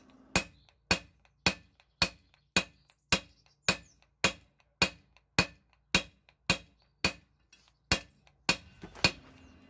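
Hot copper damascus billet hammered on an anvil: a steady series of about eighteen sharp, ringing metallic blows at an even rhythm, close and clear with no voices.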